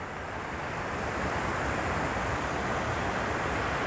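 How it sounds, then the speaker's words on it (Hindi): Hundru Waterfall pours down in a constant, dense roar of falling water, heard steadily from nearby with no pauses. "मग से पानी गिर रहा है, झरझरा ऐसे गिर रहा है"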